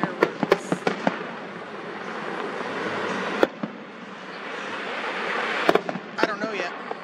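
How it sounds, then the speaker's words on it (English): Fireworks bursting outdoors, with several sharp cracks and bangs in quick clusters near the start and again toward the end over a steady crowd murmur, people talking throughout. "you're missing the fireworks"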